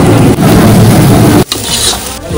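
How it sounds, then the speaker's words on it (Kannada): Onions stirred and frying in hot oil for a biryani, a loud, close sizzle with scraping stirs, briefly interrupted partway through before the frying resumes. "ಈರುಳ್ಳಿ ಹಾಕ್ತಿದ್ದಾರೆ"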